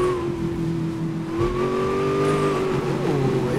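Dom's Charger from the Fast and Furious movie pack in Need for Speed Most Wanted, its engine droning steadily and rising in pitch as it revs, loud and close with no talk over it.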